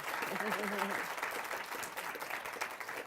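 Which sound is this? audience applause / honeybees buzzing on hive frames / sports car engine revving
audience applause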